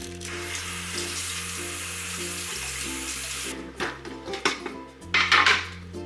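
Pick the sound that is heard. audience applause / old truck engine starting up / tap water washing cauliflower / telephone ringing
tap water washing cauliflower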